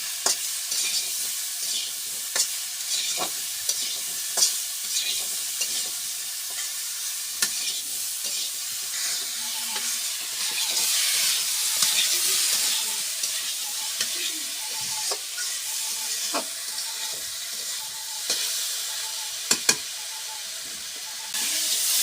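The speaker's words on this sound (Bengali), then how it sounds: "গুঁড়ো পরিমাণ মতো দিলাম ভালো করে কষে দেবো" Spice powder sautés in a hot pan in a village kitchen, giving a continuous bright sizzle and hiss. A utensil scrapes and taps against the pan now and then as it stirs, and no voices are heard.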